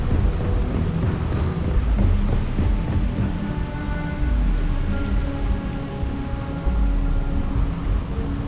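Steady rain pours with low rolling thunder rumbling throughout during a lightning storm in the video game Starfield, dense and continuous with faint tonal hum beneath.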